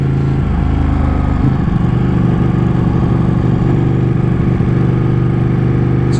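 Ducati 899 motorcycle engine pulling steadily from low revs, a loud, continuous mid-pitched drone that rises slightly in pitch partway through, heard close with no voices.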